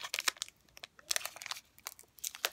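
A foil booster pack wrapper for a trading card game crinkles and tears in sharp, close bursts of rustling, with short pauses between each tug, heard alone.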